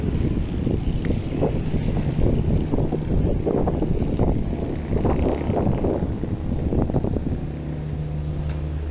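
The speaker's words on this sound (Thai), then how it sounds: "เสียงที่ได้ยินอยู่นี้คือเสียงของเรือ" Boats on the Chao Phraya River rumble beside a temple, a continuous low engine drone mixed with wind buffeting against the microphone, with no speech.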